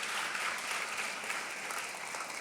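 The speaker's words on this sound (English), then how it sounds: "can we get a round of applause quickly for Andy for telling a story and all the prep" An audience at a business presentation applauds steadily, a sustained wash of many hands clapping at moderate volume from start to finish with no pauses.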